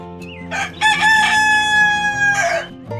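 A rooster crows once in a long, loud, close cock-a-doodle-doo that holds a steady tone across most of the moment, with a few short clucks or noises at the start.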